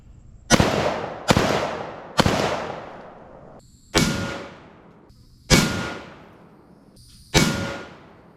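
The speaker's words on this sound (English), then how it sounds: "We will be firing the full metal jacket round through an issued AK-47 rifle." An issued AK-47 rifle fires full metal jacket rounds at a Ferret armored scout car outdoors: six loud, sharp single shots spaced one to two seconds apart, each ringing out and decaying with a brief echo.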